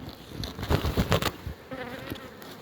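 Dense buzzing of many honeybees up close at a hive being split, a continuous swarming hum with brief louder surges as bees fly past.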